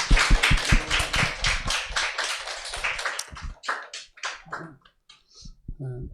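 Church congregation applauding during a Sunday service as the children leave: a burst of dense clapping that thins into scattered claps and taps, with a few voices talking near the end.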